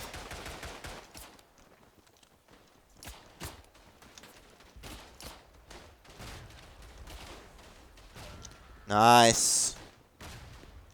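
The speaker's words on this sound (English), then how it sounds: "Keep firing, machine gunner." Bursts of machine gun fire in a World War I trench battle in the game Tannenberg, short volleys scattered through the clip and one loud, dense burst near the end, with someone talking over it.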